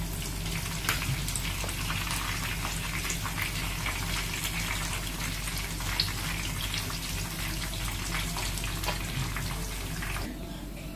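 Seer fish (vanjaram) pieces frying in oil for a Tamil Nadu-style fry, giving a loud, steady, dense sizzle and crackle that runs unbroken from start to end with no talking.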